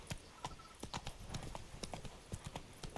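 Roach the horse's hooves clip-clop in a steady walking rhythm on a hard surface in Witcher 3: Wild Hunt – Blood and Wine, with clear, close, evenly spaced hoof strikes.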